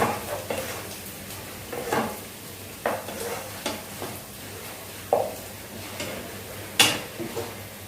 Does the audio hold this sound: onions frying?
yes